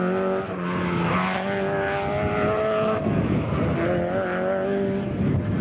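A Nissan Sunny GTI-R rally car works hard along a stage on the Isle of Mull, its engine rising and falling through gear changes at steady, fairly close range with a continuous rough roar.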